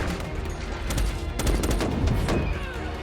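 Rapid bursts of gunfire during a battle in Transformers: Age of Extinction, loud and dense, with shots overlapping into a steady rattling barrage that lasts throughout.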